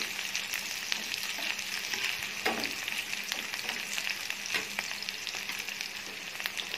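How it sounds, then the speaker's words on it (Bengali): Onion frying in a pan for American chicken chop suey, a soft continuous sizzle with occasional stirring scrapes and taps, fairly quiet and close, with no talking. "একটুখানি অনিয়নটা ভেজে নেব"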